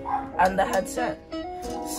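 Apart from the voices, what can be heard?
dog barking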